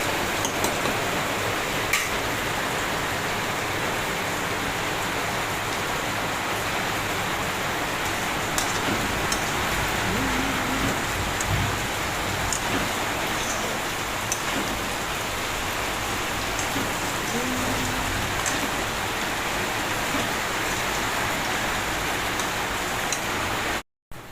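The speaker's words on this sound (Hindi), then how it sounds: "हमार घर तो हमार गांव में तब्बड़ बारिश होवत है" Heavy rain pours steadily in a village, a dense, continuous hiss with scattered drops ticking close by, no voices.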